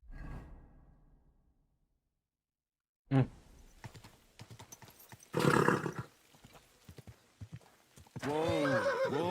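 In Kingdom Come: Deliverance 2, after a fading tone and a pause, hooves clip-clop along with soft rustling, then a horse lets out a loud, quavering whinny.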